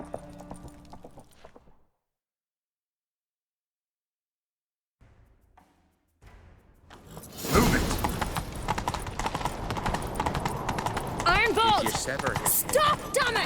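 Horse hooves clip-clop and gallop in The Witcher 3: Wild Hunt, entering after a silent gap and becoming loud and busy with mixed game sounds and voices over them.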